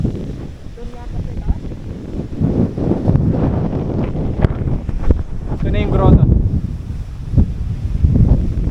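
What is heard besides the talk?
strong wind buffeting microphone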